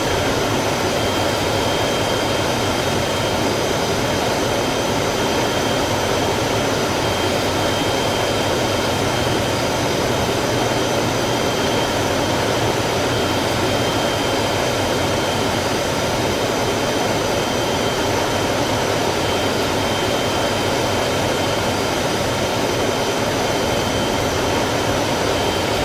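Bell X-1A aircraft landing in Microsoft Flight Simulator 2020, a constant loud jet-like roar with a steady whine on top, unbroken and close throughout, with no talk.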